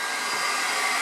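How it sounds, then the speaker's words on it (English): A handheld hair blow dryer blows steadily and loudly into a motorcycle tire on a 2005 Honda Rebel 250, a continuous broadband whoosh of air with no talking. "You take a hair clothes dryer, or a blow dryer, a hair blow dryer, and you put it in the tire there"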